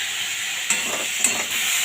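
Vegetables with aubergine and taro fry in a pan and are stirred, giving a steady close sizzle with a few soft scraping strokes of the spoon and no talk.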